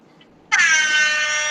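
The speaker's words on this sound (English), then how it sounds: "Yeah, do the air horn." After a faint quiet moment, an air horn blasts loud and close, one sustained bright honk that holds steady to the end, during a live podcast episode celebration.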